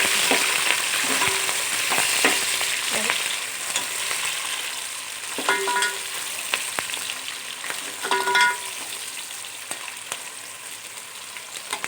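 Onions frying in a pan crackle and sizzle steadily nearby, with repeated clattering stirs and scrapes of a spoon against the metal throughout.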